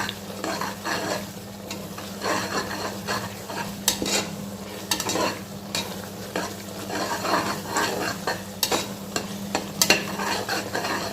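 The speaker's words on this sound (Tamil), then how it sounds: "இந்த பிரியாணி மசாலா, இந்த மிளகாய்த்தூள், மஞ்சள்தூள் சேர்ந்து வதங்குறப்ப நல்லாயிருக்கும்" Biryani masala, chili powder and turmeric sauté in a pan with a steady sizzle, while a spoon stirs and scrapes against the metal throughout.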